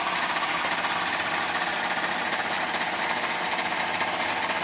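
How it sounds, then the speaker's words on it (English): A small airbrush compressor runs at about 15 psi, giving a steady, close, unbroken buzzing hum with no variation or voices. "the compressor's running on about 15 psi, I think, because it's only this small airbrush compressor"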